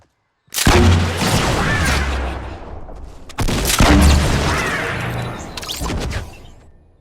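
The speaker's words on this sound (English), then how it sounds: "Let me go and play a clip of the pumpkin RPG and some action." Pumpkin rocket launcher in Fortnite fires twice, each launch hitting at once as a loud, close explosive boom. The blasts roll out into long rumbling tails, and no voices are heard.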